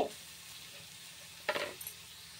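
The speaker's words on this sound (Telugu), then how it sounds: "ఈ క్యారెట్ తురుము ఏదైతే ఉందో అది పచ్చివాసన పోయే వరకు ఫ్రై చేసుకుందామండి." Grated carrot frying in half a spoon of ghee in a pan for carrot halwa gives a soft, steady sizzle, with a brief louder burst of stirring and scraping midway before it settles back.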